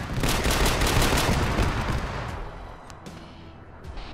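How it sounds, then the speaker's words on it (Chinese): Rapid autocannon fire from a fighter-bomber in the military game Arma 3: a loud, dense stream of shots that fades into scattered, distant-sounding reports toward the end. "这是那个歼轰的机炮"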